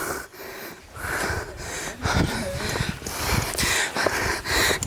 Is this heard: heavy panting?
yes